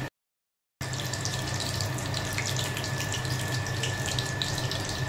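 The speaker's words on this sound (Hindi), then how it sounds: "फ्राई पे मैंने मोमो स्टीम करने के लिए रखे और इस पे अभी फ्राई हो रहे हैं।" Momos frying in a pan in a home kitchen give a steady, close, broadband sizzling hiss that runs without a break after a brief dropout at the start.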